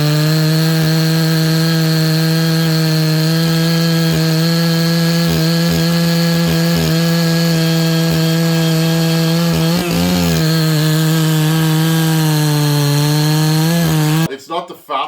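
A Farmertec 288 chainsaw running a 32-inch bar through hardwood: a loud, continuous engine drone that holds a steady pitch with slight wavers under load, then cuts off abruptly near the end.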